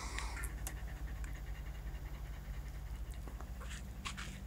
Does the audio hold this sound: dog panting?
yes